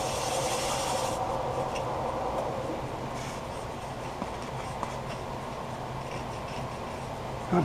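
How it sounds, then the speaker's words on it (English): A white Scotch-Brite pad buffs a wooden chip and dip server at slow speed, giving a continuous soft, even rasping rub that carries on unbroken throughout. "Just use the white Scotch-Brite with a slow speed."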